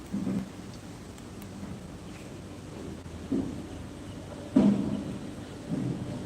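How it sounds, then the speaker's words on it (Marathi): Steady, dense rain fills the background, broken by a few low rumbling thuds that swell and fade. "इकडे पण जोरदार पाऊस सुरू आहे सध्या"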